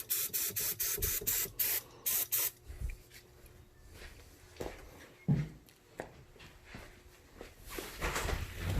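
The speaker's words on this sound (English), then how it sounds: "Let's squirt it with a little bit of starter fluid" Starter fluid sprays into the engine of a 1984 Porsche 928 in a run of short, close hissing bursts, followed by quieter rustling and clicking handling noises.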